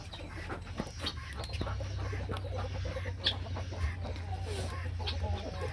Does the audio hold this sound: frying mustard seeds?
no